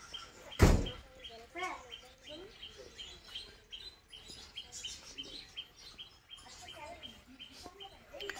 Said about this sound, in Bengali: এখানে বেশ কিছু পাখি আছে, ছোট ছোট পাখি আছে